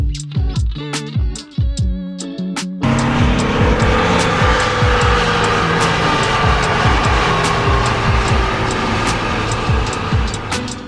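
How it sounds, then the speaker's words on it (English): An Alfa Romeo Giulia Super pulls in, its engine loud and close, rising through repeated throttle bursts over a few seconds, then settling into a sustained rough running note with sharp ticks and clatter. "Owen has just arrived in his rather glorious Alfa Giulia Super."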